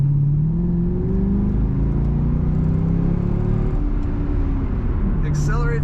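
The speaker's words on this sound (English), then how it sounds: "Accelerates as you would expect, very well" A 2006 Chevrolet Corvette coupe accelerating on dry winter roads in Minnesota, a steady loud engine drone rising in pitch from inside the car, with a faint chime near the end.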